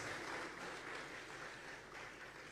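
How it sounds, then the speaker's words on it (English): An audience at a regional consultative dialogue on small-scale mining applauds in a steady, dense wash of clapping that continues without pause, fairly faint and distant. "Another resounding round of applause."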